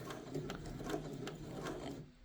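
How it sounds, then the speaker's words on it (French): Sewing machine stitching a shirt, sewing a short diagonal and back-and-forth reinforcement through thick fabric at reduced stitch length: a steady mechanical whirring clatter with rhythmic ticks, fairly quiet, stopping abruptly near the end. "je couds une petite diagonale et je fais un aller-retour pour bien solidifier cette petite piqûre"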